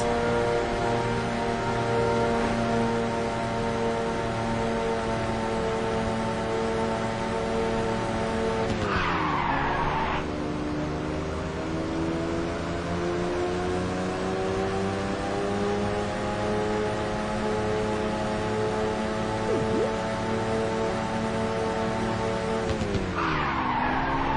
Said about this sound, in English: Here comes some crazy nitrous.